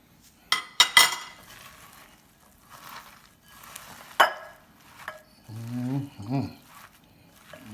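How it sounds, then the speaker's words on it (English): A spoon stirs a sardine croquette mixture in a bowl, with sharp clinks against the dish and soft squishy scraping, and a voice talks in between. "And I just go ahead and stir that up."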